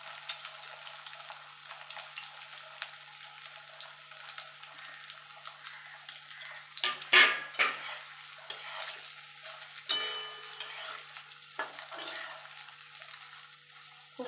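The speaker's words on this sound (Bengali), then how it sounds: "দেখুন বন্ধুরা এখানে তেলটা গরম হয়ে গেছে, আমি ডিমগুলো একটা একটা করে ছেড়ে দেবো। দিয়ে আমি ডিমগুলো ভেজে তুলে নেব।" Eggs being dropped one at a time into hot oil, with a soft hiss building into sharper crackling sizzles and a few clinks of utensils midway, close but moderately quiet.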